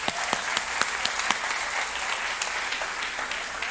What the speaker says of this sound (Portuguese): Vamos aplaudir essas sogras.